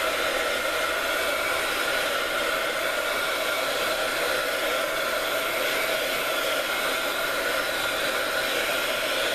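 A heat dryer blows steadily on a mixed media art tag, a constant close whirring roar with no breaks and no talking for the whole stretch.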